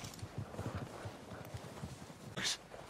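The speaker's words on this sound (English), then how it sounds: "They're coming down with the horses." Horse hooves clip-clop in a steady walking rhythm in the Red Dead Redemption video game, fairly close and moderately loud, with a brief brighter jingle or clank near the end and no speech.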